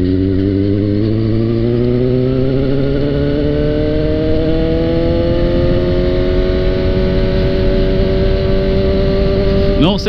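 A Suzuki GSX motorcycle accelerating through a curve on a patched road, its engine pitch climbing steadily in one long, loud pull close by, with continuous rushing wind noise.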